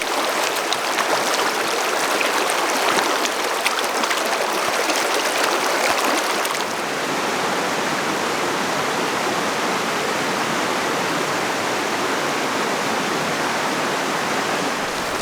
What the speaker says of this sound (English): the river here is flowing currently at 40 cubic feet per second